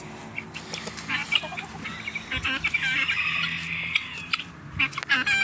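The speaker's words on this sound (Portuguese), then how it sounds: "vou mostrar a galinhada para vocês aqui hoje" Chickens at a country smallholding cluck and chatter in a busy flock, with overlapping calls close by and a rooster among them, steady throughout while a person speaks in between.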